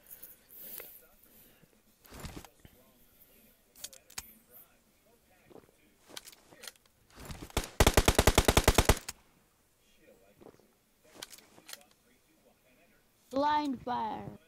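Rapid burst of automatic gunfire in a squad-based shooter video game, a loud dense rattle lasting about a second, with scattered single shots and faint clicks around it.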